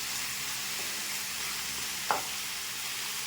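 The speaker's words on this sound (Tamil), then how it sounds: "சிக்கனை போட்டு நல்லா கிளறி விடுங்க" Chicken sautéing in a pan, a soft even sizzle running throughout with a single brief clink of a spoon near the middle.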